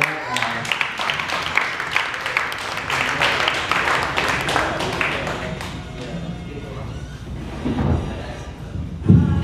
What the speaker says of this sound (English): Clap it up for that guy.